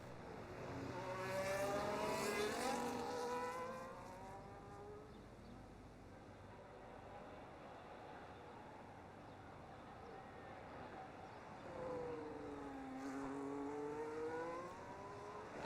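Race cars lapping the Mexico GP circuit in a racing video game, engines whining and rising in pitch as they pass, faint and distant, with a second car sweeping by later.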